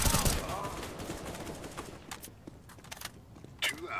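Gunfire in Counter-Strike: Global Offensive, a dense burst of rapid shots up front that thins into scattered single reports and a final sharp crack, with game noise throughout.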